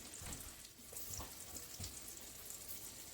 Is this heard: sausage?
yes